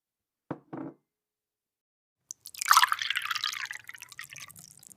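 Whisky poured from a bottle into a glass at a bar: a couple of quick glassy knocks, a pause, then a close, steady trickling pour that tapers off, with no talk.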